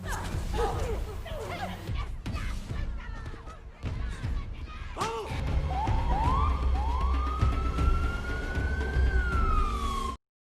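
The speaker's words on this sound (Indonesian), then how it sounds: "Lalu Aretas dibawa menggunakan mobil ambulans." An ambulance siren in the film Bad Boys for Life wails with rising and falling tones amid a loud, busy action scene of engines and commotion, ending in a long sweeping siren tone.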